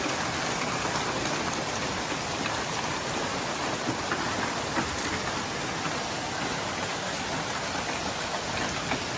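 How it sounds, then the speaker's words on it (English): A hailstorm in Texas, with dense, continuous pattering and drumming of stones hitting surfaces like roofs and cars, a steady broadband roar that stays loud and unbroken throughout. "the thunderous impact of hail"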